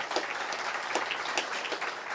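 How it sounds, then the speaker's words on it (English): Scattered clapping from a volunteer gathering at a county veterans' stand down event, a steady patter of hands with a few sharper claps standing out, moderately distant and fairly soft, with no talk over it. "I'm going to clap."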